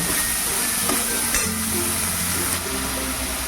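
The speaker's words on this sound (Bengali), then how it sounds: "এবারে আলু বেগুন একটু মিডিয়াম হিটে ভাজবো" Potato and eggplant fry in a pan over medium heat, giving a steady, dense sizzle with occasional stirring knocks and scrapes, close and continuous with no talking.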